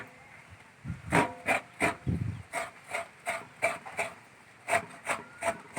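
Coconut being scraped by hand, a rhythmic series of about a dozen raspy scraping strokes, close and fairly quiet, with a few low knocks at the start.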